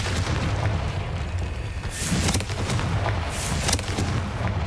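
A Confringo explosion spell in the video game Hogwarts Legacy, heard as a loud rumbling boom with crackling blasts and debris, dense and continuous with no talk.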